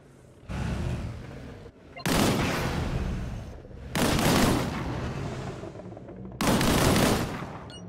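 Heavy gunfire in the video game Disintegration, shooting at a barrel: three loud, sustained bursts of shots, each lasting over a second, separated by brief lulls.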